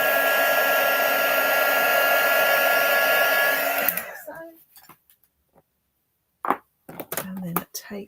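A heat gun blasts embossing powder on a card with a loud, steady whooshing roar for about four seconds, then shuts off, leaving quiet broken by scattered clicks and a brief voice.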